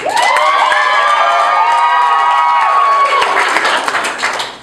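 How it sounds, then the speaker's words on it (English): A game-show audience cheers and whoops loudly, with children's shouts and some clapping, a dense sustained roar of voices close by for several seconds before tapering off. "applaud if you believe that they are the right match for our bachelor"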